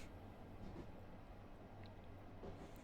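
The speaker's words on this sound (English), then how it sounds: "Train noises don't have to scare me." Train noises in a train driving simulator video game, a steady quiet rumble of rolling rail cars with faint rhythmic clatter, continuous and distant-sounding.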